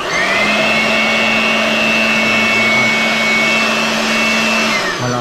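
A pressure washer being tested at a car wash runs with a loud, steady motor drone and spray hiss for several seconds before winding down, with no talk.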